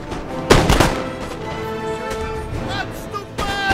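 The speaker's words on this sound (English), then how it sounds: "I start firing canister shot to these landwehr" Artillery firing canister shot in the video game Napoleon: Total War, a loud sharp cannon blast followed by ringing battle noise and scattered distant shots, with no voices.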